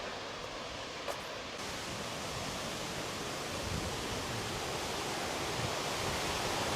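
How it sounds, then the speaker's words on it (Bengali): Cold mountain water flowing steadily in Lungern, Switzerland, a continuous broadband rush heard close and alone without any talk. "আপনারাও অনুভব করুন এই প্রকৃতি পানির সাউন্ড"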